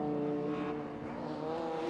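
Saloon race cars at Kirkistown circuit run down the back straight, a sustained, moderately distant engine drone holding a steady pitch over two seconds.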